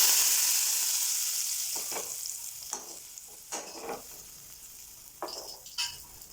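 Kadachakka (breadfruit) curry is stirred in a pan with a ladle, a bright sizzle fading over several seconds while repeated scraping strokes come close and clear.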